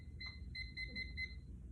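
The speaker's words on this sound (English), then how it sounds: "I'm gonna set a timer for 5 minutes" Beeping from a timer being set for five minutes, a quick series of thin electronic beeps in short clustered bursts, fairly faint over a low background rumble, with no talking.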